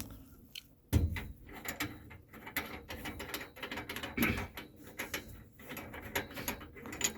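A cap being unscrewed on a tankless water heater service valve, with close clicking, scraping and ratcheting mechanical sounds after a sharp knock at the start.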